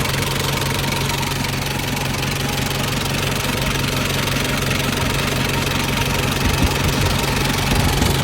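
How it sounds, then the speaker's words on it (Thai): A Nissan Big-M pickup's 2.5-litre BD25 diesel engine idles steadily, a low rumbling drone with a rhythmic knock that stays constant throughout, close and fairly loud. "เครื่องยนต์บีดี สองห้าฝาแดงนะครับ ดีเซลนะครับ"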